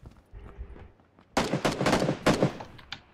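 Rapid bursts of gunfire from an SMG in the video game Friday the 13th, loud, close and clustered into a short stuttering volley after a quieter lead-in.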